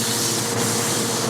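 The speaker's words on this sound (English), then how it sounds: "So today I'm going to sand down the companionway hatch and cover and prime those." A sailboat's companionway hatch is sanded, giving a continuous loud, close, hissing scrape that stays steady throughout, with no voices.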